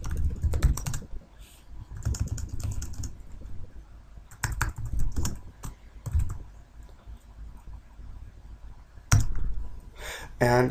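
Keystrokes on a computer keyboard while entering a line in the Atari FIG-FORTH editor, coming in quick bursts of close, crisp clicks separated by short pauses.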